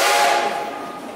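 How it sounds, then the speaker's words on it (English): A single short, loud toot from the engine whistle of the Silver Dollar City train, bright and close, fading quickly. "give me 3 toots on that whistle"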